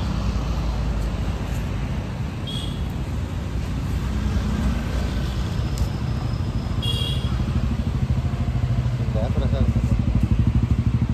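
Motorcycles and other vehicles pass along a roadside near a petrol station in a steady stream of engine and traffic noise, with voices talking over it.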